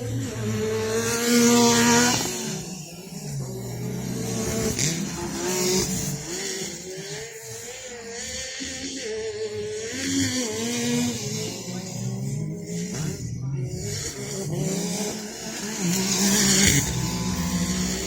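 Race cars lapping an oval at a Greenville sportsman's race, engines roaring and rising in pitch as they pass, with occasional tire squeal, loud and continuous.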